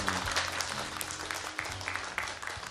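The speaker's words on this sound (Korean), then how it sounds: "박수 한번 또 치셔야 되겠습니다." Audience applause at a Korean author's book concert, a dense, steady wash of clapping from a crowd that holds at an even level throughout, fairly distant and alone without talk.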